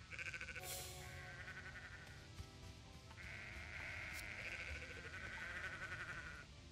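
Sheep bleat repeatedly in the video game Sudeki, a few clear mid-pitched calls standing out over a busy game soundtrack with no talking.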